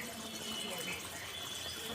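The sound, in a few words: hot water being poured into mutton curry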